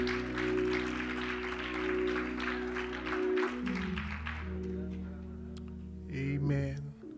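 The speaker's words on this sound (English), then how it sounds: "let's clap our hands for the praise team" In church, the congregation claps for the praise team, a soft crowd of hand claps over a sustained organ or keyboard chord that fades as the applause thins out.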